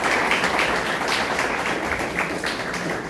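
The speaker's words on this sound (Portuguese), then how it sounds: "Vamos aplaudir Jesus por isso" A church congregation applauding during a worship service, a dense, steady wash of many hands clapping at once, fairly loud and sustained throughout with no break.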